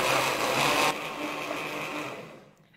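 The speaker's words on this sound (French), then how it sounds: "Ensuite, vous couvrez et vous mixez le tout jusqu'à obtenir une pâte bien lisse" Blender whirring at high speed as it purées tapioca, salt, black pepper and water into a smooth batter, a loud steady motor drone that shifts pitch partway through and then fades out near the end.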